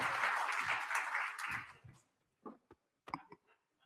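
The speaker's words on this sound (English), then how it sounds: "Please give Mr. Ruiz a proper round of applause." Audience applause at a business conference in Namibia, a dense burst of clapping that fills the first two seconds and then dies away, leaving a few scattered claps and knocks before quiet.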